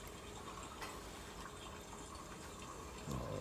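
Cha-cha distillate drips and bubbles steadily at a still during distillation, a soft continuous trickle with faint, close liquid patter and no voices.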